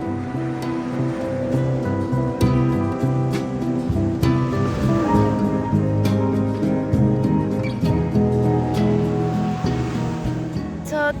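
Sea waves wash onto an Italian beach in a continuous loud rushing surf, with steady broadband noise and a low rumble that persists throughout, with no clear voices.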